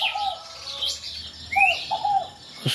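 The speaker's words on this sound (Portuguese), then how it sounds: "os pássaros cantando" Birds sing around a fruiting mulberry tree, with several separate chirps and whistled calls, some near and fairly loud, spread across quiet rural background noise.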